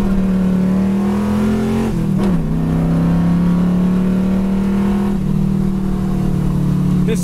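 A yellow 1968 Chevy Camaro accelerating on the road, its engine droning steadily close up with a brief dip around a gear shift before the pull resumes and climbs again.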